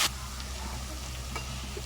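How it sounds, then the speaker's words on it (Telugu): Onions fried with a pinch of turmeric and a spoon of ginger garlic paste are stirred in a pan, giving a steady soft sizzle with a couple of faint spoon scrapes, heard alone and close. "ఇప్పుడు బాగా కలుపుకోవాలి."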